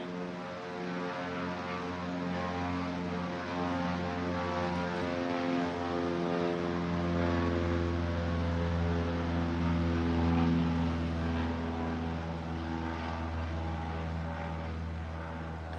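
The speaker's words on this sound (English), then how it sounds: "Sorry about the plane." A propeller airplane flying low overhead, a steady loud droning engine hum that swells slightly as it passes, heard close with no speech.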